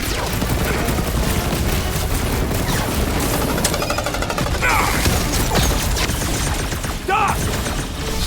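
Rapid sustained gunfire and blasts from a rooftop firefight in the video game Guardians of the Galaxy, a dense continuous barrage with scattered sharp impacts and effects, with characters talking over the action.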